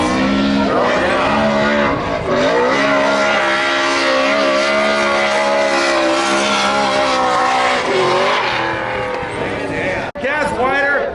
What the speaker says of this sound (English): Andrew Redwood going to the finals against Gas Wider and Wallhouse. Throwing down.